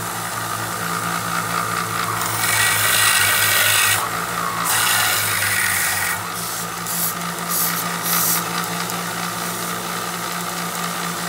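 Belt sander running steadily on a saxophone mouthpiece shank extension, a constant motor hum with louder rasping, grinding passes of the workpiece against the belt in the early and middle stretches.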